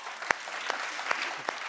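Studio audience on a daytime talk show clapping, a sustained crowd applause with a few sharp, distinct hand claps standing out near the front.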